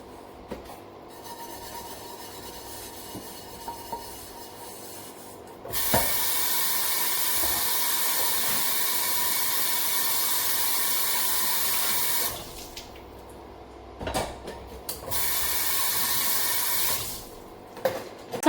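Dishes washed under a running tap at a home sink, a steady rush of water in long stretches broken by short pauses and faint clinks, close and alone with no talking.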